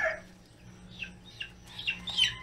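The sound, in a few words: chicken clucking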